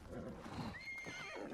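A horse in the video game Ghost of Tsushima lets out a rising, wavering whinny over a busy background of hoof clatter and ambient game sound, with no one talking.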